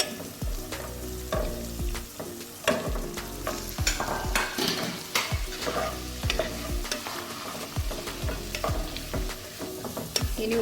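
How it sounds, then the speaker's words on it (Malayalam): Onion scapes and green chillies stir-fried in hot oil, with a steady close sizzle broken by repeated scraping and clacking of a spatula against the pan throughout. "പച്ചമുളക് എണ്ണയിൽ വാടിയ നല്ലൊരു മണം വന്നു കഴിഞ്ഞാൽ ഉള്ളിത്തണ്ട് ചേർത്ത് കൊടുക്കാം"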